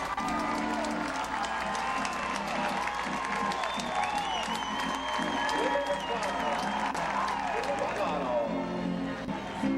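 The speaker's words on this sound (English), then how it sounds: "Give Jimmy a great round of applause over on the east side." At a rodeo, a large crowd applauds and cheers steadily for the whole stretch, with whoops rising through the clapping and a voice audible in the background.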